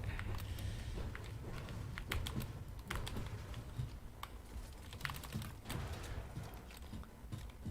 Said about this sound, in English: just listen to his keys